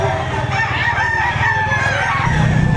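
A rooster crows loudly nearby at a chicken market in Batangas, a long drawn-out call, with some clucking and low farmyard noise underneath.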